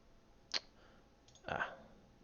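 A pair of computer mouse clicks, spaced about a second apart, the second slightly longer, fairly quiet and close against a faint room hiss.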